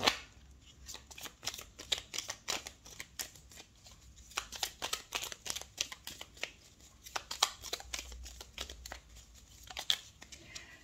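Oracle cards from the Petit Oracle de Gaïa being shuffled and drawn, a dense run of quick papery flicks and riffles at close range, steady throughout with no voices.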